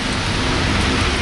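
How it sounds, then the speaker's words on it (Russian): Heavy rain pours outside an apartment window in Nice, a dense, steady roar of downpour close by, with no talking. "Вот так красиво льет дождь."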